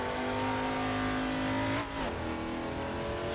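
A race car in the sim racing game Assetto Corsa drifting, its engine holding a steady high-revving drone with a brief dip and shift in pitch partway through, loud and close with no talk over it.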